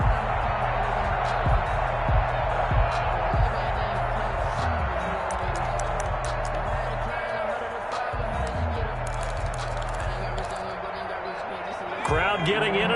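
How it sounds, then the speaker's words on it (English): A stadium crowd roars in a Madden football video game, a steady dense wall of cheering that rises slightly in places, with a commentator's voice talking over it throughout. "Crowd getting in it a bit already."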